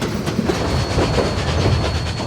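A historic Cumbres & Toltec narrow-gauge railroad train rolls along its tracks, heard close with a continuous rumble and rhythmic clickety-clack of wheels over rail joints, no voices.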